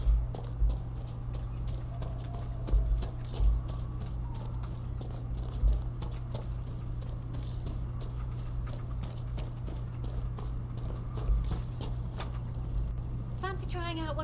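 Horse hooves clip-clop in an irregular walking rhythm over a steady low hum in the video game Dragon Age: Inquisition, with occasional louder hoof strikes and a brief chime near the end.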